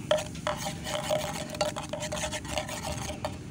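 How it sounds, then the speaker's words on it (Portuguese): A knife stirs fish food in a pot on a beach, making faint, repeated metallic scrapes and light clinks in an irregular rhythm. "Ei, meu Deus do céu, tem que mexer com a faca."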